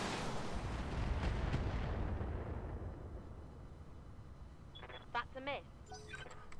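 A mech weapon firing in Roguetech lands as a heavy, rumbling blast that rolls and fades over several seconds, followed by faint electronic beeps and chirps, with a voice talking over it.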